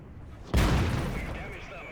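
A single loud tank cannon shot in the video game World of Tanks, fired from a Caernarvon or IS-3, a sharp nearby blast with a long rumbling decay.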